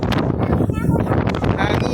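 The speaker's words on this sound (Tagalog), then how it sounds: "Ang lakas nga lang ng hangin." Strong wind buffets the microphone in a loud, continuous roar, with a voice talking underneath.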